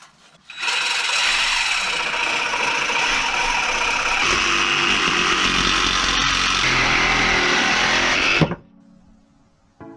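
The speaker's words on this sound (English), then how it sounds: "So I'm going to have to cut it with a Sawzall and grind the rest of this back to where it's gone." A Sawzall reciprocating saw cuts through metal on a pit bike during a Predator 212 engine swap, a loud, steady rasping buzz running continuously for about eight seconds before stopping abruptly, leaving quiet.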